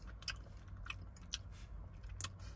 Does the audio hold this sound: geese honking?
no